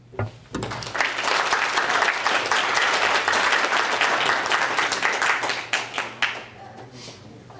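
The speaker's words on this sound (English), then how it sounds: "one more round of applause for all our students today" Sustained applause from a crowd at a middle school Veterans Day program, loud and dense, with individual claps emerging as it tapers off near the end.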